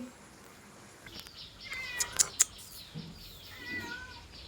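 A kitten gives several short, high meows at a home birthday gathering. The meows are fairly faint and spaced out, with soft background noise.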